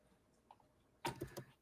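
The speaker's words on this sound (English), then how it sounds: "I'll type it into the comment section for you, Logan." A few soft clicks are followed by a quick burst of computer keyboard typing, close but quiet, lasting under a second.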